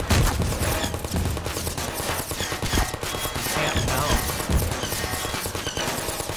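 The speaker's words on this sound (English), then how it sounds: "That's a turret." Rapid automatic turret fire in the Half-Life 2 Episode 2 junkyard battle, a dense continuous rattle of gunshots close and loud throughout, with someone talking over it.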